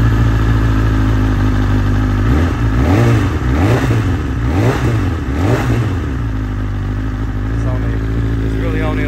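A 2020 BMW S1000RR sportbike running a modified map on 93 pump fuel starts up and revs in several sharp rising and falling blips over a steady loud idle, close by and continuous.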